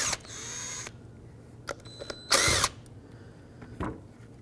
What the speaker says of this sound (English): I'm going to take a 7mm socket, remove both of these little nuts here.